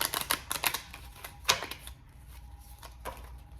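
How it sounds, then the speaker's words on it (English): Romance Angel oracle cards being handled and shuffled up close, a quick series of crisp papery snaps and taps, with one sharper slap midway, then quieter intermittent flicks. "I'm going to pull some Romance Angel cards."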